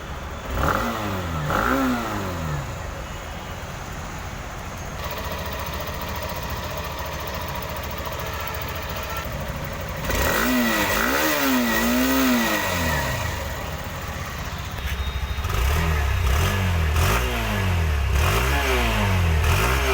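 A Hero Xtreme 160R, a 160cc motorcycle, idles with a steady rumble, then is revved hard several times in quick rising and falling bursts, loud and close, with no talking.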